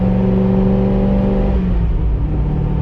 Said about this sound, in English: You gotta get your Charger sounding like this.